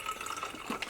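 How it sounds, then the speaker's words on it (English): Beef broth pours into a jar that still holds some pasta sauce, giving a short, soft, gurgling liquid splash heard close and alone. "I'm going to pour some of it in this"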